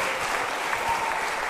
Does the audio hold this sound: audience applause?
yes